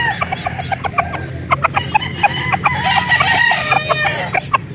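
A rooster crows loudly and repeatedly among clucking chickens at a poultry market in Calauan, Laguna, the calls close and overlapping against a busy background of other birds.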